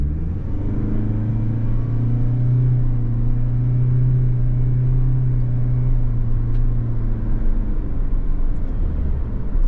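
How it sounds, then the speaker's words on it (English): A 2023 Toyota Prius XLE AWD with a CVT pulls away from a standstill. A loud, close, steady drone holds at a near-constant pitch while the car accelerates, with no speech. "you can hear how this transmission sounds taking off from a dead stop"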